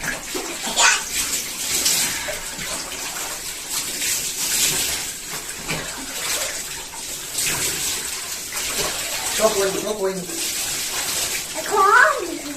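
Water splashes and pours repeatedly in a bathtub, close by, while a father and his young daughter talk over the sloshing.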